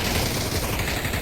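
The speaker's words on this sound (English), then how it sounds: "the gunfire is pretty obvious" Dense gunfire crackles in a VR shooter game, a rapid, continuous rattle of shots filling the short stretch at steady loudness without pause.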